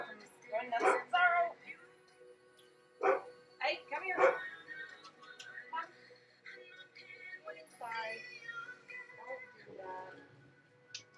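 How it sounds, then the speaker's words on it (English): A dog barks in sharp bursts, several loud barks early on followed by yips and whimpers, while someone talks over the noise. "I'll stop my dog from going nuts."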